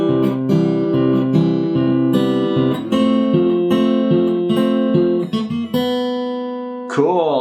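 Steel-string acoustic guitar playing the verse of John Lennon's "Imagine": steady strummed and picked chords, full and close, with a brief sliding squeak at the end.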